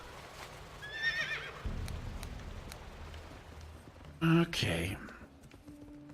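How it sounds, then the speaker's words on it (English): A horse mount in the World of Warcraft video game whinnies loudly near the end, with hoofbeats and faint background game sounds before it and a brief spoken word. "Let me get on my horse."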